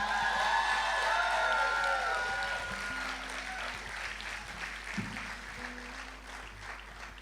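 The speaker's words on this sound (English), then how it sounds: "please show some love and a huge round of applause" Applause with some cheering and whoops from an audience at a Singapore event honoring a speaker, sustained and loud through the clip and slowly easing off, with faint talk and low hums underneath.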